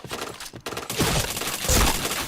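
Rapid gunfire bursts from a shooting video game, with dense crackling volleys that pause briefly before louder rattling bursts resume, close and loud with no talking.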